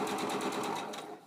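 A sewing machine runs fast and steady while stitching a pleated face mask, a close, continuous whirring that eases off slightly at the end.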